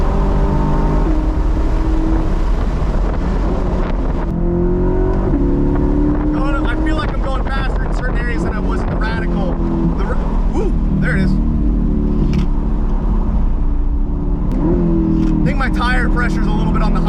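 A loud Corvette engine drones and revs continuously from inside the car on a race track, with wind noise and people talking over it throughout.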